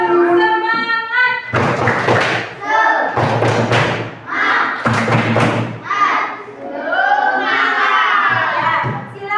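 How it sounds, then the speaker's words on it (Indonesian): Students in a STEM lesson repeat the tepuk semangat spirit clap with more force, in several loud clapping bursts with thumps and group shouting between a teacher's spoken prompts. "Belum semangat. Tepuk semangat."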